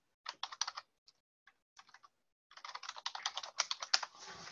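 Typing on a computer keyboard, a quick burst of keystrokes, a few scattered taps, then a longer fast run of clicking keys, close and clear with no talking.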